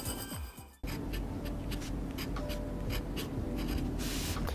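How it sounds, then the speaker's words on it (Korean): A glass pen scratches steadily across paper in close, continuous strokes for several seconds, preceded by a brief quieter rustle. "이건 이제 얼마 전에 찍었던 건데 유리펜. 이 유리로 만드는데 이게 소리가 되게 좋아요."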